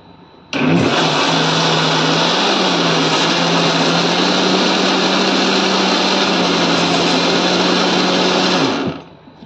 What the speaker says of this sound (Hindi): इसको भी बीट करके ये बैटर रेडी है